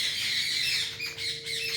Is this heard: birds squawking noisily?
yes